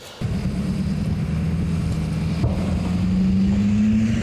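Novator Ukrainian armored vehicle with an American automatic gearbox pulling away from a standstill. Its engine gives a steady, close, loud low drone that climbs slightly in pitch as it starts to move, with no talking.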